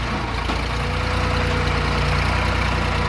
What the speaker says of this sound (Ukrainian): І найкраща мить це відвантаження трактора до нашого клієнта.